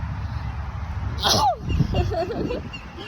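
One sudden sneeze bursts out close by, surrounded by low background noise and a little murmuring.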